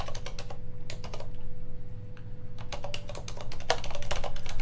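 Rapid typing on a computer keyboard while entering a URL on a Linux desktop: dense bursts of close key clacks over a steady low machine hum, with a short pause in the middle.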